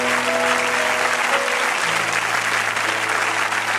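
A church congregation applauds God with loud, sustained clapping that fills the whole stretch evenly, a faint tone hanging underneath.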